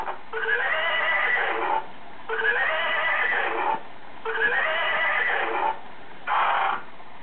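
A toy horse gives three long electronic neighs in a steady rhythm, each lasting over a second with short gaps between them, followed by a shorter fourth whinny. The sound is close, clear and loud, with no talking over it.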